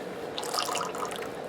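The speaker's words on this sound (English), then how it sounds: "Pour that in there like so." Liquid pours steadily into a container while making homemade bar soap with silk fibers, salt and sugar, a soft continuous trickle and splash, close and fairly quiet with no speech.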